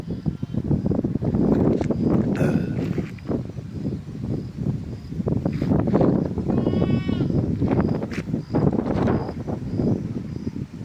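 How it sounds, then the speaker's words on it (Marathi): A flock of sheep walks along in single file, with several bleats rising over steady wind and background rumble; the animals sound fairly close and call intermittently throughout. "हे बघा ह्या त्यांच्या मेंढ्या कशा येलेल्या बघा आता."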